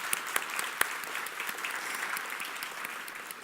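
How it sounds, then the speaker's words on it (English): Applause from a Ruby programming conference audience, steady dense clapping with a few sharper individual claps standing out, unbroken throughout. "Can we have an applause for him?"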